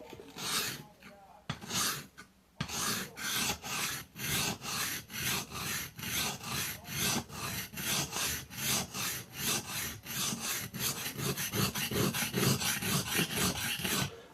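A knife is sharpened on a whetstone in a long run of rhythmic rasping strokes, close and even, about two per second, quickening toward the end after a brief pause early on.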